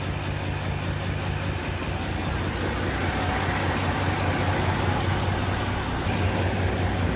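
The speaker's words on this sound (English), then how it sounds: "You can hear the exhaust. It's like it's got a valve leaking." A Kenworth W900 truck engine with a leaking exhaust valve runs rough at idle, a loud continuous uneven rumble and chuff close by, without talk.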